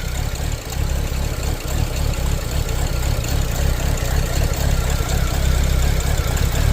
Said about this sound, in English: Here it goes doing that weird idle thing again.